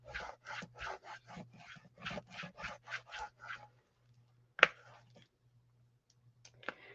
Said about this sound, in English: And I'm going to give it a good burnish.